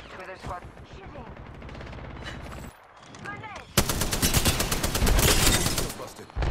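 Apex Legends gunfire starts as muffled bursts with game sounds and a speaking voice. After a brief drop, a sustained loud barrage of rapid automatic shots fills the rest.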